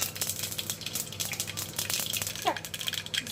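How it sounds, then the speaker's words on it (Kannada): Mustard seeds hit hot oil in a pan, making a steady close sizzle and fry with crackling pops and light rattling over a few seconds, with no voice over it. "ಎಣ್ಣೆ ಬಿಸಿ ಆದಮೇಲೆ ಸಾಸಿವೆ ಹಾಕೊಳ್ತಾ ಇದ್ದೀನಿ."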